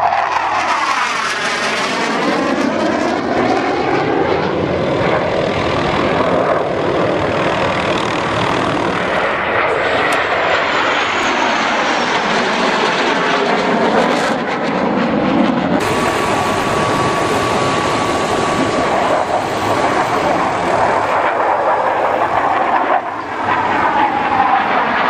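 An ultralight aircraft engine drones loudly overhead at a gathering of ultralight planes in Nymburk, swelling and fading in pitch as it passes across the sky, continuous throughout with no speech.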